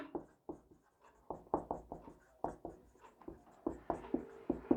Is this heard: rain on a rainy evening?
no